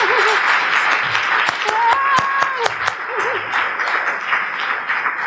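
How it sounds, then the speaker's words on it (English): Crowd at a career talk applauds in a loud, continuous round of clapping, with a few brief tonal voice sounds and sharp claps standing out from the dense wash. "let's give a round of applause, everybody."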